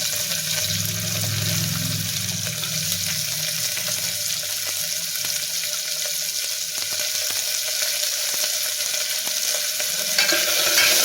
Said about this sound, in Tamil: நல்லா கலந்துக்கலாம் நல்லா வெங்காயம் வந்து நல்லா வதங்கட்டும்